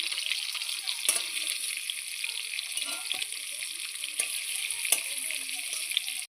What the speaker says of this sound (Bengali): এবার আমি পটলগুলো ভালোভাবে উল্টে পাল্টে লাল লাল করে ভেজে